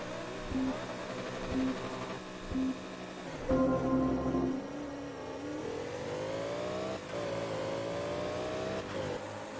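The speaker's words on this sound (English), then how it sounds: "Oh my god, that Ferrari's quick off the line." A Ferrari in Forza Motorsport 2 launches off the line with a few short revving bursts, then a steady engine note that climbs in pitch as it accelerates, loud and close.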